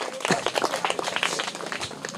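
Children in a classroom quiz give a burst of loud, dense applause for a correct answer, many hands clapping at once, sustained and close, with a few voices mixed in.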